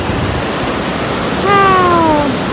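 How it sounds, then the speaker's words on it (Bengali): Heavy, steady rush of flowing water at a riverside beauty spot, a broad continuous roar filling the whole clip, with a brief tonal whistle-like sweep partway through. "কিন্তু জলটা বিশাল আসছে।"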